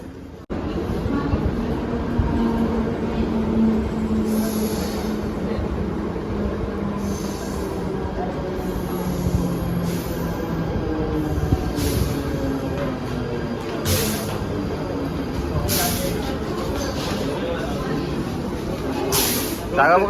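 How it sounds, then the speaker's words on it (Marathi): A suburban train on Mumbai's Western line comes into a station near Virar, a steady low rumble of wheels and carriages running throughout, with people talking nearby. "आता आम्ही इथून स्टेशनवरतून निघालो आहे. ट्रेन येईल आता."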